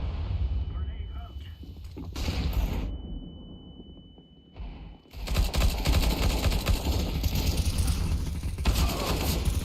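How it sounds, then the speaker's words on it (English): Gunfire and explosive blasts in the video game CS:GO during a casual matchmaking round: loud, sustained volleys of shots and booming bursts, broken by a brief quieter gap, with a voice talking over part of it. "Grenade out."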